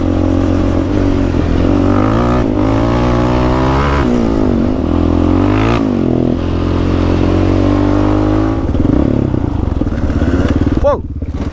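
Italian 300cc two-stroke trail enduro motorcycles ride Iowa trails. A loud, close engine drone holds throughout, its pitch rising and falling as the revs swing, with a brief clatter at the end.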